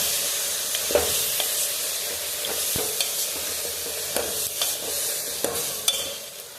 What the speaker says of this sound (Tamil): கத்திரிக்காய் போட்டு நல்லா மிக்ஸ் பண்ணி விடலாம்